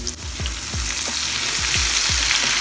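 Cumin and red chili powder crackle and sizzle in hot oil for a tempering, a bright continuous hiss with small popping bursts, close and lively.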